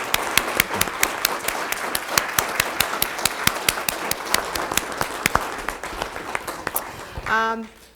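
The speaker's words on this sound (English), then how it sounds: "stand up and do a resounding applause to the Cohens for their generosity." An audience at an award event applauds, with sharp, close individual claps standing out over a softer spread of clapping, before a voice begins speaking near the end.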